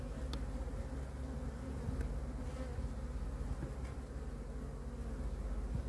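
Honey bees swarm around an open beehive, their dense, low buzzing hum continuous and fairly quiet, with occasional individual bees zipping past close by.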